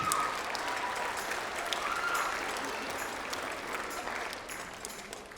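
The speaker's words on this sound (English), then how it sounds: "Give yourselves a round of applause." An audience applauds at a school band concert, a sustained wash of clapping at fairly low level that tapers off gradually toward the end.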